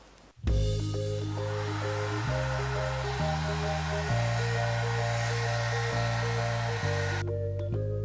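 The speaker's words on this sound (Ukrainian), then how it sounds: "я спробую імітувати його за допомогою звичайного фену" A hair dryer switches on and blows steadily with a loud whirring hum, its tone shifting between speed settings before it cuts off.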